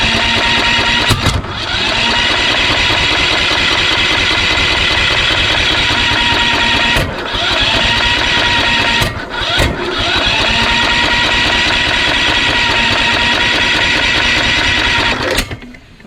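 A Kohler Courage engine on a Craftsman YS4500 lawn tractor runs loud and close, with a steady mechanical chatter broken by several brief dips and stumbles before cutting out at the end.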